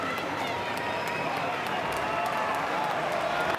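A large stadium crowd at an AFL football match between St Kilda and Fremantle applauds the Saints players, a broad, constant roar of clapping and crowd noise with a commentator talking over it.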